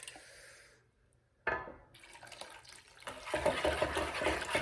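Liquid pours steadily into a pot, a splashing, filling wash that starts abruptly and grows louder toward the end.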